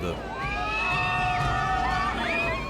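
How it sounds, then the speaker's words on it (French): Riders scream on amusement park rides at Nigloland, a wooded theme park in France: a sustained chorus of high, overlapping shrieks from a crowd, fairly loud and continuous for a few seconds. "des cris ont à nouveau retenti à Nigloland"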